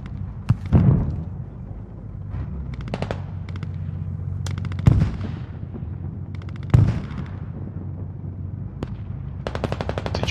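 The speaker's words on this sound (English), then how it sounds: "We're gonna keep hitting OP Fortress with mortar fire." Mortar and gunfire in the video game Squad: heavy booming impacts land several times, interleaved with rapid bursts of automatic fire, some close and loud, others more distant.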